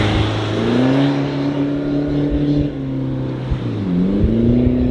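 A VW Vanagon Westfalia van drives along dirt roads, its engine droning steadily with shifts in pitch as it speeds up and eases off, heard from inside with constant road rumble and no voices.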